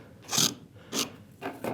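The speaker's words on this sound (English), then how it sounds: "So I'm going with the gentle side of the rasp" A rasp's gentle side files a wooden router plane kit in three short, separate scraping strokes, each a bright rough burst with brief pauses between.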